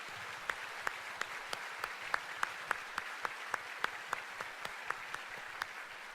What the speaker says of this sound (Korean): 우리 박수 한번 격려의 박수 한번